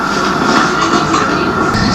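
Enduro motorcycle engine running during a Forestry Service noise check at a 1987 Hi Mountain Enduro event, a loud, steady, rough roar held close by for the whole moment.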